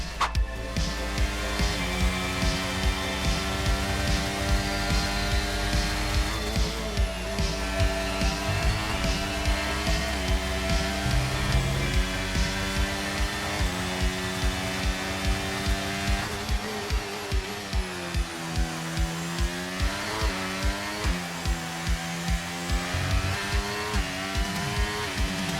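An F1 23 race car screams around the Australia circuit in the video game at full speed, a loud continuous engine whine rising and falling through repeated gear shifts and corners.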